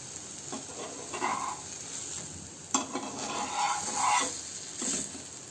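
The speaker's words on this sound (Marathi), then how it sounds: "असा दोन्ही साईडने शेकून घ्या हाय टू मिडियम फ्लेमवर आपला बेसन चिला तयार झालेला आहे" Besan cheela, a gram-flour pancake, cooks on both sides in a pan over high-to-medium flame, giving a steady close sizzle broken by a few scraping stirs and spatula strokes, with no talking.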